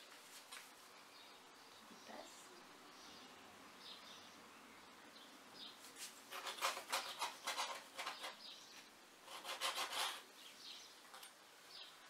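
Scissors snipping through fabric for a handmade needle book, quiet at first with a few soft cuts, then two clusters of rapid, close crisp snips and rasping strokes.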